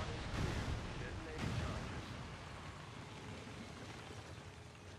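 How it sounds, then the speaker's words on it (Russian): Explosions in the video game XCOM 2 War of the Chosen during a squad evacuation. Two muffled booming blasts open the clip, then a continuous rumbling, crackling roar follows, with no distinct screams standing out. "Под взрывы и крики наши бойцы эвакуируются с задания."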